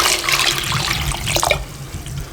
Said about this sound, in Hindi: पानी शामिल कर दें।